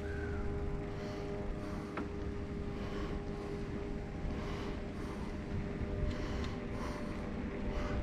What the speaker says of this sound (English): the guy with the airplane is driving me nuts